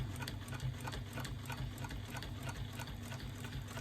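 A sewing machine stitching free-motion quilting circles, a fast, even mechanical whirring patter running continuously up close with no voices.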